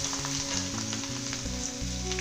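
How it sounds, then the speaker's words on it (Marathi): Spinach and coriander leaves fry crisply in hot oil, a steady close sizzle with bubbling crackle throughout, no voices. "थोडं थोडं करूनच आपल्याला पालक कोथिंबीर तळून घ्यायची आहे"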